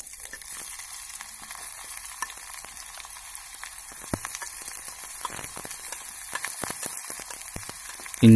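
Chopped onions hitting hot coconut oil after mustard seeds have popped, a loud steady sizzle and fry with occasional crackles and stirring scrapes, close up and without talk.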